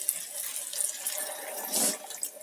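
Water poured into an electric kettle holding masala oats and cooked tomatoes, a steady close splashing trickle that swells briefly near the end, with no talking.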